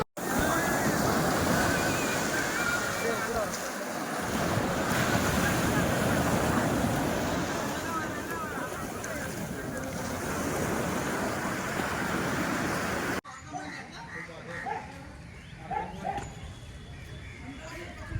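Continuous roar of sea surf washing onto a beach at Pondicherry, loud and broad, with the wash swelling and easing; it cuts to quieter ambience near the end.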